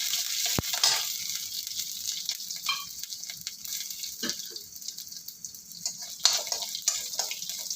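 Peanuts and a single chili sautéed in a pan for a festival meal, with a steady soft sizzle and occasional sharp clicks of a spatula against the pan.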